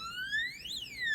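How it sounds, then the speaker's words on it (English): An alarm on a farm on a dark, snowy morning sounds as a single electronic tone that sweeps up and then back down over about a second, fairly clear above a faint background. "The alarm went off,"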